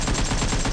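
Rapid, stuttering automatic gunfire in PUBG Mobile during a solo-versus-squad match, dense bursts running loud and continuous through the whole moment with no pause.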